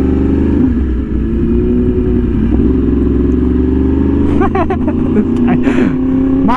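A Yamaha R1M motorcycle with a full exhaust system idles and revs steadily close by, holding a strong low engine drone throughout, with a few sharper rev blips and rattles toward the end.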